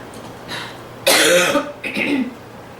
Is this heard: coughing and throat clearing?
yes